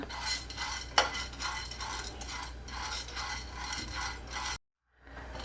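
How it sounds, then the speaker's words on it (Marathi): Sunflower and pumpkin seeds dry roast in a pan as a spatula stirs them in steady, rhythmic scraping rattles with one sharp knock. The sound cuts to silence near the end. "सनफ्लॉवर सीड्स पम्पकिन सीड्स आधी हे आपण छान भाजून घेऊया"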